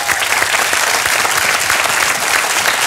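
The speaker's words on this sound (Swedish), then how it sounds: "Det är värt en applåd." An audience at a live interview event applauds loudly and steadily, dense clapping close by from start to finish.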